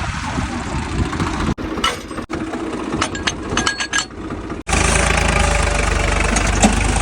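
A tractor engine chugging steadily and loudly nearby with jolts and rattles as it lurches toward a field, interrupted by brief cuts before settling into a heavy continuous drone.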